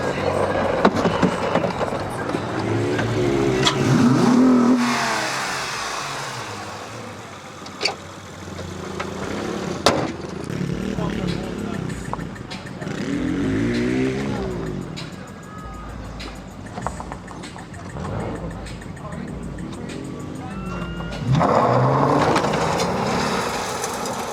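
A car engine idles and revs in uneven bursts with a rough, rattly exhaust note from a damaged, hanging exhaust, while people talk over it now and then.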